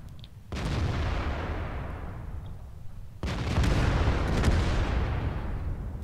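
Heavy tank cannon and artillery fire in World of Tanks erupts in two big booming blasts, each followed by a long rumbling roar that fades slowly, loud and close with no talk.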